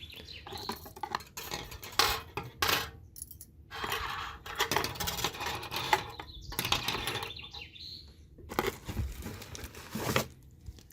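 Metal hand mixer beaters and dough hooks clink and rattle together amid crinkling plastic packaging, in irregular bursts of handling noise close by, with no talking.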